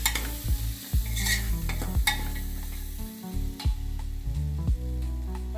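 Schezwan fried rice masala being mixed into Kathiyawadi-style khichdi, with a spoon scraping and stirring in repeated strokes over a steady close sizzle, and no talking.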